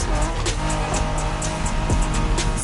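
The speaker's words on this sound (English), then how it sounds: "Are you familiar with the Honda you're driving? The NSX isn't your regular street car." A Honda NSX sports car, a 1990s rival to Ferrari and Porsche, drives in a racing video game. The engine drones steadily and loudly throughout, with faint tire squeal and a few brief transient bursts.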